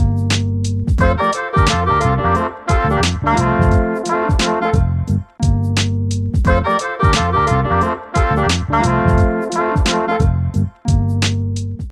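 A horn section plays a bright phrase in three-part harmony with bass and drums backing, stated loudly and then repeated.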